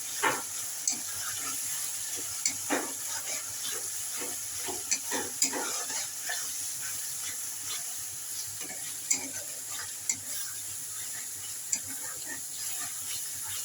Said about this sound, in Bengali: ভালো করে মশলাগুলো কষিয়ে নেব।